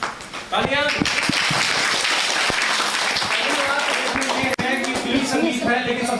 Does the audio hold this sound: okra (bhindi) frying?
no